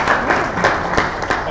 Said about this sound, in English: Can we give Antony Paul a round of applause?